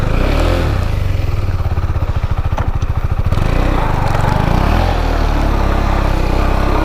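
A KTM Duke 390 motorcycle engine cranks and catches, then idles and revs with a loud, steady, close rumble and some clatter throughout.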